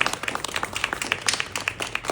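Audience applause at a book launch event, a steady burst of many hands clapping close and fairly loud, lasting about two seconds with no voices over it.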